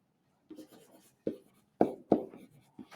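Writing a mathematical statement during a pre-algebra lesson, a few separate close scratchy strokes and taps of a pen or marker, spaced over a few seconds.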